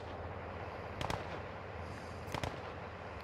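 Gunfire in Call of Duty Modern Warfare II, two short bursts of distant shots cracking over a low ambient background, heard alone.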